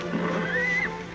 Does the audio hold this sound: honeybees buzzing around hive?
no